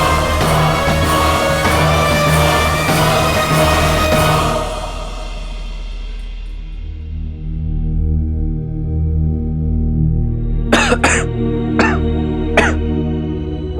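A man in a TV drama episode about Aladdin coughs and clears his throat under a loud swell of dramatic music that fades out, followed by several sharp, short bursts near the end.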